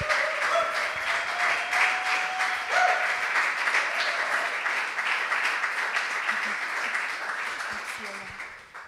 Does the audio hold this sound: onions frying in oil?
no